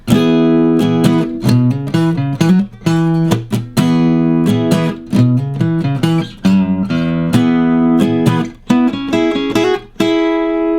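Guitar chords and lead licks from a practice routine ring out alone in a steady rhythmic phrase, strummed chords alternating with quick single-note fills and clear pauses between notes.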